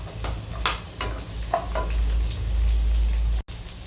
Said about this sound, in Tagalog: Nagisa muna tayo ng bawang. Tapos yung pong ating sibuyas.